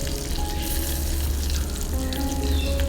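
Chili pieces frying in oil give a continuous close hiss and crackle, even and unbroken from start to finish, with no talking.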